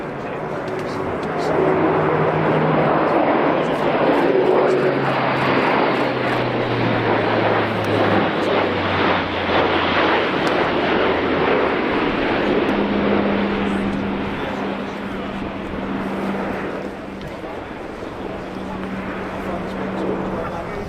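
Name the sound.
Airbus A400M Atlas military transport aircraft flying at airshow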